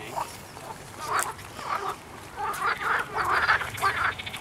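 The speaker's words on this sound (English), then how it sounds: "Those are frogs I hear, Lincoln?" A noisy chorus of frogs croaking in quick, overlapping bursts, fairly close and loud, with no voices.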